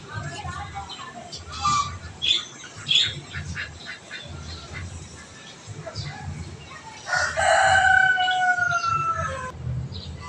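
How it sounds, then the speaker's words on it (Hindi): Fowl calling, given as a turkey, with repeated honking squawks and a long drawn-out crowing call near the end, heard over low background chatter. "टर्की"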